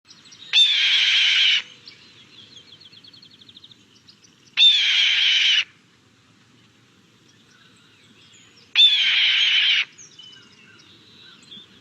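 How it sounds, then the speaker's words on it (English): Three loud, harsh descending screams of a red-tailed hawk, each about a second long and spaced roughly four seconds apart, played back from a recording, with faint chirping birds in the quiet gaps between calls. "That is, in fact, the call of a red-tailed hawk."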